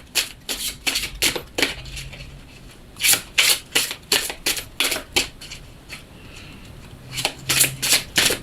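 Tarot cards are shuffled in several quick bursts of crisp riffling and flicking, close and clear, with short pauses between the runs.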